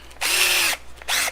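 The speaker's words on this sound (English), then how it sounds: "as you're drilling down inside this, you want it to stop at the proper depth" A power drill with a depth-stop bit boring into wood while building a standing desk, two short loud whirring bursts, the first about half a second long and the second shorter, each spinning up and then winding down.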